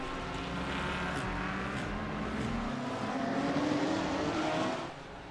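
A GT3 race car in a sim racing game drones through its engine note and drops in pitch as it brakes late for a hairpin on the final lap, steady and fairly loud before cutting away.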